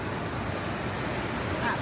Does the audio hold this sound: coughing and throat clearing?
no